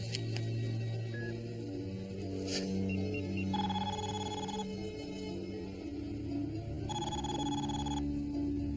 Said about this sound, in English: Come on, Sidney, answer the phone